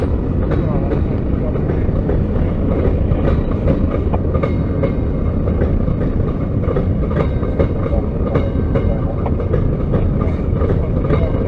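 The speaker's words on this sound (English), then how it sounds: "Watching trains is not only a visual experience, but also a sound experience." A CSX freight train rumbles loudly along the rails close by, a dense continuous clatter with rhythmic clicks from the wheels passing over track joints.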